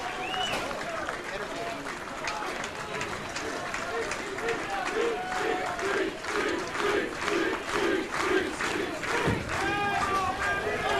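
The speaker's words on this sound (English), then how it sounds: "Crowd chanting for Weber" A bowling center crowd at a professional touring tournament chants rhythmically for a bowler, steady loud repeated shouts with cheering and general crowd roar throughout, mixed with voices.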